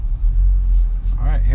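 A 2016 Audi S6 with an APR Stage 2 tune gives off a deep, steady engine rumble, loud and close, while someone talks over it.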